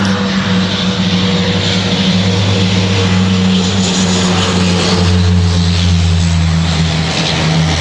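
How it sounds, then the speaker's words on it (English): Small propeller plane on a Caribbean island hopper flight drones steadily overhead, a loud continuous engine hum with a low throbbing tone that holds for the whole stretch, no talk. "Oh my god, I think a plane is coming."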